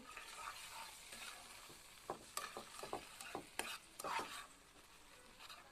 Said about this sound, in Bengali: এইগুলো আমি এখন এর ভিতর মিশিয়ে দিচ্ছি, মিশে দেবো এখন